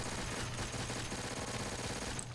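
Rapid automatic AK fire in the zombies mode of Call of Duty: World at War, a dense, loud burst of rounds running steadily for a couple of seconds with no talking.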